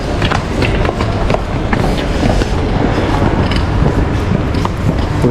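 An old Soviet-era train rolls through Samarkand railway station with a continuous clattering rumble of wheels and carriages, steady and close, peppered with sharp metallic knocks.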